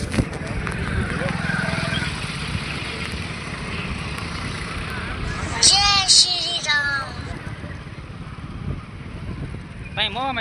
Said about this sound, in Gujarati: હા જુઓ ટ્રાફિક